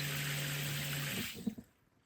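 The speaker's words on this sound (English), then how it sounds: "That shuts the pump off, and then the flame cuts out accordingly." Water runs through a shower heater with its pump humming, then the pump is switched off and the flow stops abruptly, leaving a few soft drips and clunks before quiet.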